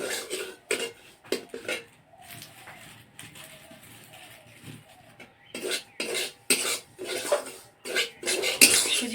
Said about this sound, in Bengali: শুকনো কড়াইতেই ভাজছি